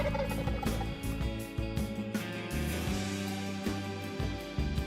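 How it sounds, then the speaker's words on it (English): Wild turkeys gobble at dawn on the opening morning of spring turkey season on a northern Indiana farm, with repeated rattling gobbles overlapping one another, fairly close and loud against a steady background. "It's opening morning of Indiana's spring turkey season, and Wild Adventures host Brian Smith has the birds dialed in"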